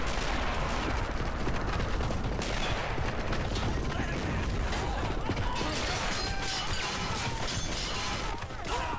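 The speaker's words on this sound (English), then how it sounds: "There goes the machine guns." Dense, continuous machine-gun fire rattles alongside explosions and mechanical clatter in a plastic army men battle game mod, with the green and tan armies fighting and the noise staying loud and busy throughout.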